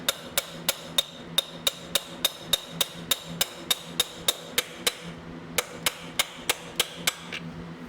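Sharp, ringing hammer blows on metal, knocking a brake part onto the axle of a Kawasaki Bayou 220 ATV, close and evenly paced, about three strikes per second with one short pause partway through.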